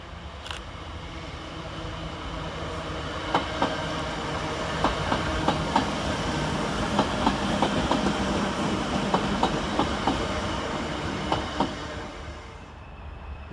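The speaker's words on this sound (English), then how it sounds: "coming the other way is another Filthy Bugger 319379 with the 12:35 Northern service from Liverpool Lime Street to Blackpool North" A Northern class 319 electric train passes through Preston station with a steady rumble and a rhythmic clickety-clack of wheels over rail joints, heard close and alone before fading.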